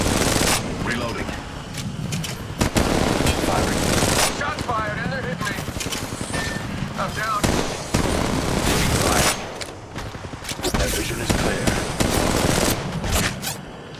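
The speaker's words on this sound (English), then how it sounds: "Shots fired and they're hitting me" Rapid gunfire in the mobile battle royale Apex Legends Mobile, loud, dense automatic bursts and single shots crackling almost without pause over game effects, with a voice speaking intermittently beneath.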